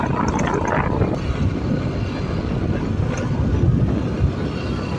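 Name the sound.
tractor plowing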